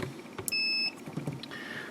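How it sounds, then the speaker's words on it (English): A single electronic multimeter continuity beep sounds clearly for about half a second, with quiet clicks and faint handling noise around it, while testing a furnace pressure switch. "switching your meter to your continuity settings. You'll know that by the beeping."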